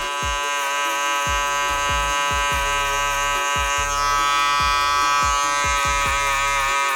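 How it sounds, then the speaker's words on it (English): An electric shaver used like clippers for a mid skin fade haircut buzzes steadily and loudly up close, its tone dipping slightly in short repeated bursts as it moves. "I like to use the shaver as they were a pair of clippers"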